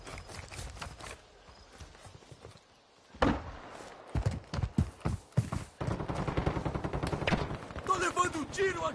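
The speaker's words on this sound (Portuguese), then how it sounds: "Tô levando um tiro aqui." Gunfire in Call of Duty: Modern Warfare 2 multiplayer: sharp, irregular bursts of shots, some rapid and clustered, with a voice speaking during the action and a denser stretch of fire toward the end.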